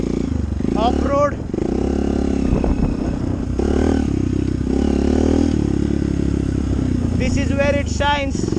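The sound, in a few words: Hero Impulse motorcycle riding off-road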